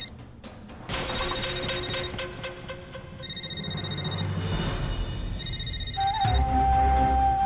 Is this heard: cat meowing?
no